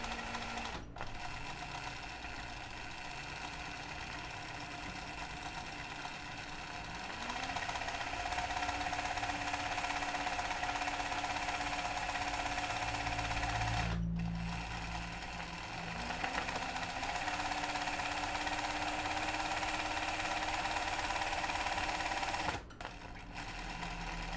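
A domestic sewing machine runs steadily through free motion embroidery on upcycled clothing, its motor giving a continuous whirring buzz. The whir pauses briefly twice and shifts pitch slightly as the speed changes.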